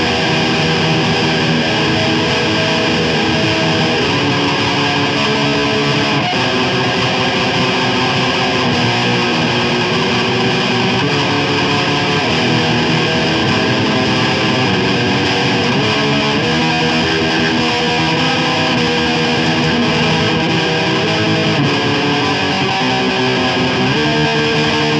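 Heavily distorted electric guitar plays a steady, buzzing, fuzzy mid-paced black metal riff with a dense, saturated tone, loud and continuous throughout.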